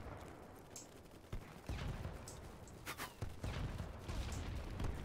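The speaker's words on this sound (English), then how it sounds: "Keep shooting." Gunfire rattles in the large-scale online shooter BattleBit during a 127 vs 127 battle. Near and distant shots and bursts overlap constantly, with sharper close reports standing out from the noisy battlefield din.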